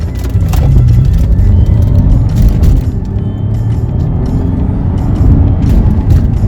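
Tuned Vauxhall VXR hatchback accelerating hard on a 0 to 60 run after a Superchips remap, heard from inside the car: loud, continuous engine and road roar with no let-up, plus scattered clicks and knocks.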